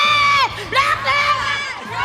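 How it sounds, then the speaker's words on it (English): A large arena crowd at an esports grand final in the MSC 2023 Mobile Legends tournament chants and cheers loudly in rhythmic bursts, many voices shouting together up close and filling the space. "Let's get them to cheer for UA."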